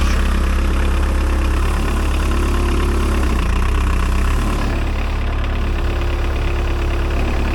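Homemade mini tractor engine running during winter ploughing, a loud, steady low drone that changes pitch slightly partway through as it moves into second gear.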